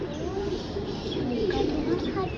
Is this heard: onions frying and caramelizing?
no